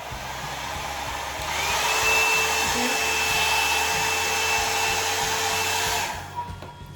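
A BaBylissPRO hot air brush runs with a steady, loud blowing whir and a faint whine, its motor rising briefly as it switches on and dropping off at the end, with no talking.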